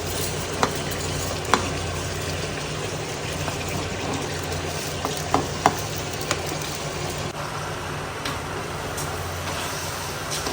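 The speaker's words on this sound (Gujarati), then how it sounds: "તો હવે ચોખા આપણે નાખી દીધા પછી બધું સરખી રીતે મિક્સ કરી દેવાનું" Rice being stirred into a pot of whole masoor dal pulav, a steady soft simmering sizzle with occasional scraping clicks of the spoon against the pot, close and moderately quiet.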